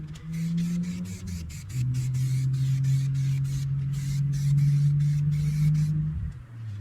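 Coating spray hisses from an aerosol can onto restored parts of an older Craftsman wood lathe, a series of short and long bursts with steady hiss and a low hum underneath, close and moderately loud.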